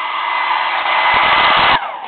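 A handheld hair dryer blows steadily and loudly on a surface just cleaned with silicone wash while making a grain mold, a continuous close airy roar with a slight drop in pitch near the end.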